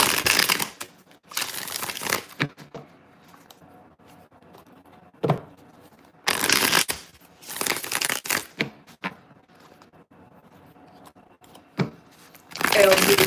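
Cards being shuffled in several quick riffling bursts, close and crisp, separated by quiet pauses with faint background sound.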